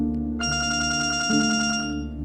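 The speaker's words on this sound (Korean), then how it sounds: "그때 전화가 걸려왔다." A telephone rings with a repeating pulsed electronic tone, steady and fairly loud for about two seconds over a low background hum, with no one speaking.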